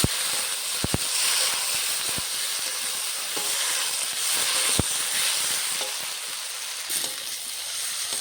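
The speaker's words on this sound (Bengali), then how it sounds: "আদা জিরে বাটা, মশলাটা দিয়ে দিয়েছি, এখন ভালো করে কষিয়ে নেব।" Ginger-cumin paste and spices fry with kohlrabi in a pan, giving a steady close sizzle with occasional sharp spits and light clinks from stirring, and no voices.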